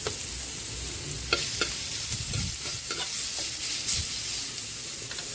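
Ginger and garlic sizzling in rendered chicken fat in a pan, a steady close frying hiss with occasional stirring scrapes and taps and no talk over it.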